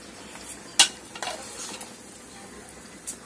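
Thick-cut onions with coriander and mint fry lightly in a pan for a chicken curry, a soft steady sizzle broken by a few sharp stirring scrapes, one loud near clatter early on, and no talking.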